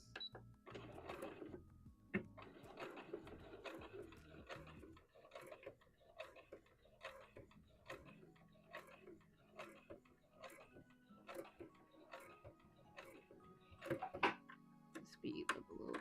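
A sewing machine stitches forward and backward on a Vogue wrap dress, giving quiet, rapid ticking needle strokes in short bursts, close but faint, with a voice speaking softly now and then.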